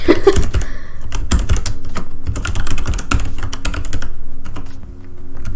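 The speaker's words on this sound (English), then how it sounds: "he is here right now typing it" Rapid, uneven clicking of keys on a computer keyboard, close and fairly loud, continuing steadily for several seconds with no talking.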